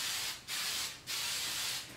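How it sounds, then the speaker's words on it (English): Hairspray hisses onto a pompadour hairstyle in three close, loud bursts, each about half a second long with brief gaps between, and no talk. "a little bit of spray, now we do the final shellac"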